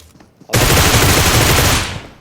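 Heavy automatic gunfire in PUBG Mobile: a loud, dense burst of rapid shots that starts abruptly and runs for over a second before cutting off.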